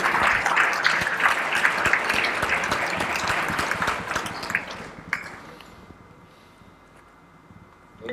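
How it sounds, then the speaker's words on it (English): A live audience gives a round of applause for a panel of speakers at a leadership discussion, with dense, loud clapping for about five seconds before it thins out and fades to quiet. "May we once again have a huge round of applause for all our esteemed panelists."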